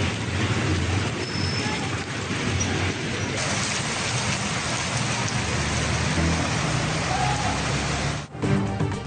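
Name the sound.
heavy rain falling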